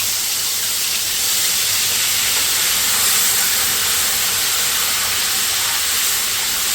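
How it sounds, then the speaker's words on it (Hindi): Ground garlic chutney sautéing in a hot pan makes a loud, unbroken, close-up sizzling hiss that holds steady throughout, with no other sounds. "इसको भून लें जैसे लहसुन की चटनी को भूनते हैं।"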